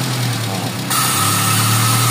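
Mitsubishi car engine with a severe idle fault, idling steadily and loud and close, its hum shifting abruptly to a higher, brighter tone partway through as a load like the air conditioning comes on.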